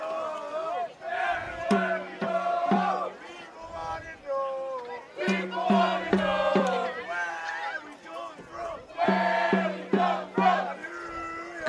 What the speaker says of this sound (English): Crowd's very lively for a 0-0 game